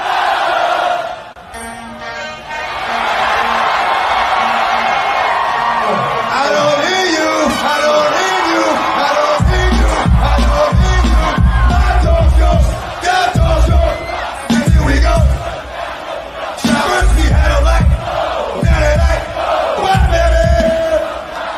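A huge arena crowd at a rap concert roars and chants continuously, with heavy rhythmic bass-driven music thumping underneath in the second half, loud and dense throughout.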